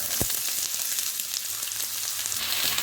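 Onion, green chilli and curry leaves frying in hot oil for a mushroom dish, giving a steady, close, bright sizzle and crackle throughout with a single sharp pop near the start.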